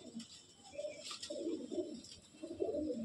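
Breeder pigeons coo in low, rolling bursts from a loft, several murmuring calls overlapping in repeated waves at close range, with faint higher chirps above.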